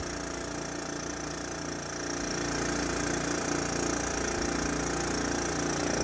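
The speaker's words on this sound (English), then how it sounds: "Let's fire up that air compressor." An air compressor running on generator power, a continuous loud motor drone with a steady hum, close and unbroken for several seconds, with no speech.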